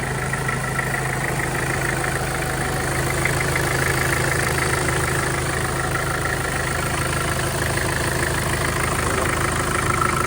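A Mitsubishi Pajero Field Master engine idles steadily after timing chain repair work, a smooth continuous hum with a faint mechanical tick, close and unbroken with no talking.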